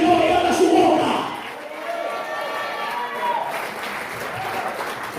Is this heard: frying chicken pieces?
no